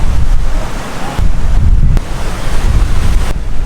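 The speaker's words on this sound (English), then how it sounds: "Those waves are no joke, by any means." Heavy ocean surf crashes onto Eternity Beach on an island, a loud roaring wash of breaking waves with strong wind buffeting the microphone.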